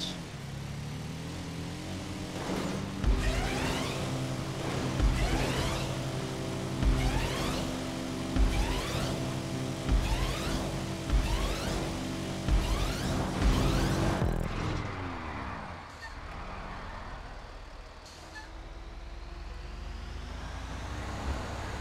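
Small trucks drive past one after another in a steady rumbling stream, the engine noise loud and close, then the traffic thins and fades toward the end.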